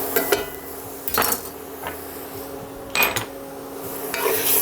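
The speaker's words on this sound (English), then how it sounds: "Give us a good mix around here real quick." A spoon stirs garlic in a soup pot for a hearty beef and vegetable soup, with a few distinct metal scrapes and clanks against the pot at close range over a steady kitchen hum.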